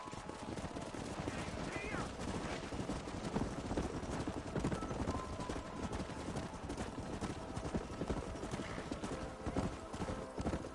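Rapid horse hooves clatter steadily in a busy Red Dead Redemption soundscape, with a neigh and scattered gunfire mixed into the dense noise.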